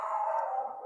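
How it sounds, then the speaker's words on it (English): A dog lets out a single drawn-out howling whine, fairly close and clear, lasting under a second with no talking. "That's my dog."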